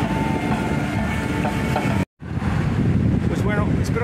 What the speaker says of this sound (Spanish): escuchemos el sonido del mar